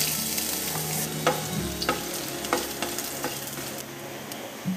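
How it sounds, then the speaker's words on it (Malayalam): Chopped ginger frying in hot coconut oil, giving a steady close hiss broken by several sharp ladle clicks and scrapes against the pan, with no talking. "എണ്ണ ചൂടായി വരുമ്പോൾ അതിലേക്ക് നമ്മൾ നേരത്തെ അരിഞ്ഞു വെച്ച കുറച്ച് ഇഞ്ചി ചേർത്ത് കൊടുക്കാം."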